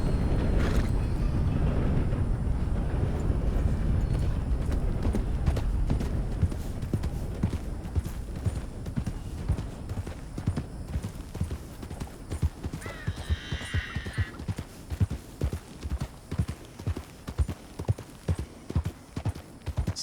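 Horse hooves clip-clop in a steady trotting rhythm while riding in the video game Red Dead Redemption 2, the beat growing clearer and more regular over time, with a short whinny partway through.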